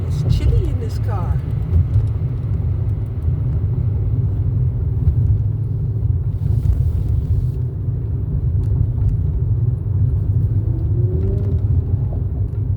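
Inside a moving car, a constant low road rumble and engine drone fill the cabin, steady and close, while a person talks over it.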